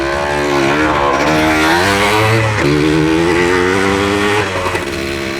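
Postie bike motorcycle engine revving loudly and close as it rides off, a continuous buzzing drone with shifting pitch through gear changes, no speech.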